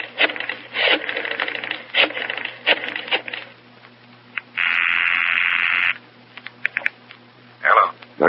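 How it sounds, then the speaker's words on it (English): Mechanical clicks and ratcheting bursts of a public telephone being dialed as a radio drama effect, several short separate pulses and one sustained tone, fairly close and clear with no talking. "Then I go to a public telephone, making sure I'm not being followed, and dial my FBI contact."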